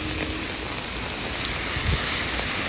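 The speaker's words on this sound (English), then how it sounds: "Everywhere rain water." Steady rain falls on a wet street near a temple, a dense, even hiss of water running the whole time with no talking.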